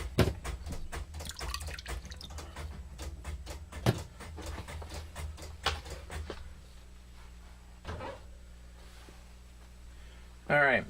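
Water drips and patters from rock wool cubes being shaken over a tray in an indoor hydroponic grow room, a run of quick, close droplet taps that thin out into a few scattered drips.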